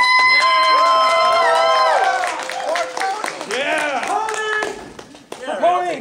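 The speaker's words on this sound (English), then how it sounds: "Thank you for that smattering of applause." Scattered clapping from a convention panel audience at Connecticon 2010, mixed with loud whoops, cheering and shouted voices close by, the crowd noise rising and dipping unevenly.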